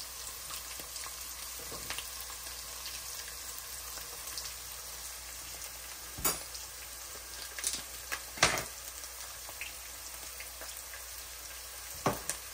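Cabbage and capsicum vegetable curry frying in a pan over a low gas flame, a steady soft sizzle with a few sharper clinks of stirring, no voices.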